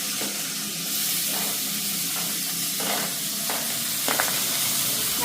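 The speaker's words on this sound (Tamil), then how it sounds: "இப்போ தேவையான அளவு வெங்காயம் போடுறோம்" Onions dropped into hot oil crackle and sizzle steadily at close range, with a few soft scraping stirs breaking through the continuous hiss; no talking.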